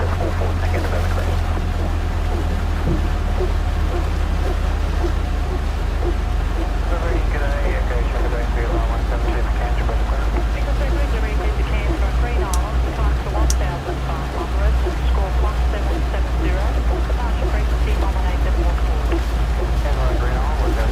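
Engine 1 of a LevelUp Boeing 737-900 starting up in the X-Plane 12 flight simulator, a steady, loud low turbine rumble and whine holding throughout, with a pilot talking over it.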